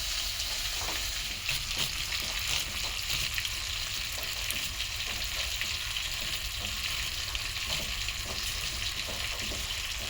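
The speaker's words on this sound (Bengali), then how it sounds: "আমাদের মাছটা ভাজা হয়ে গেছে" Rohu fish frying in oil in a rustic village kitchen, a dense continuous sizzle and crackle at steady moderate loudness throughout, with occasional spatters and no speech.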